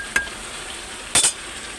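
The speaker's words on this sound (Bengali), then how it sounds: "তো আমি তরকারিটাকে নাড়িয়ে নিয়েছি একবার, আর একবার নাড়িয়ে দিচ্ছি।" Potato and pumpkin curry being stirred in a pan, with two brief utensil scrapes and clinks against the pan over a soft steady background, no talking.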